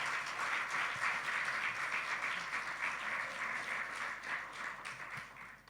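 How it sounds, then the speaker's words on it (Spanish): Congregation applauding in a church service, a steady dense wash of clapping held throughout at moderate level with no talk over it. "Denle un fuerte aplauso al Señor,"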